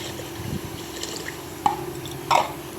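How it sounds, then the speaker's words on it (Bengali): Water added to a cooking pot of simmering potatoes lands as two short, bright splashes a moment apart over a low kitchen background. "আর একটু জল অ্যাড করে দিলাম"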